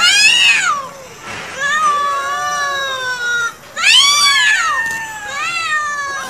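A cat meows loudly and close by, with two long, drawn-out wailing meows and shorter calls between them.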